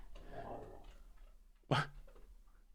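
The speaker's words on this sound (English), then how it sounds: "You got to hear a little bark too." A large young dog lets out one short, sharp bark close by, after a stretch of quiet snuffling and breathing at low volume.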